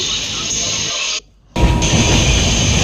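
Steady rumbling interior noise of a moving passenger train on a dark, foggy early morning, loud and continuous, cutting out briefly for a moment before resuming.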